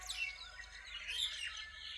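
Small birds chirp and tweet in a tree at a bus stand in Shembal Pimpri, a faint, brief run of high overlapping calls over a low background rumble.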